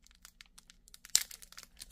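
Magic: The Gathering booster pack wrapper torn open with teeth: close, quiet crinkling and plastic rustle, then one sharp rip midway followed by more crumpling.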